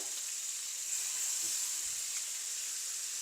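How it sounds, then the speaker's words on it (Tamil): Pineapple pieces frying in oil with large prawns in a pan, a steady soft sizzle and hiss throughout, close and even with a faint stir. "இப்போ நான் அன்னாசி பழங்களை நான் இதில் சேர்க்குறேன் கொஞ்சம் ஃப்ரை ஆகிறதுக்கு"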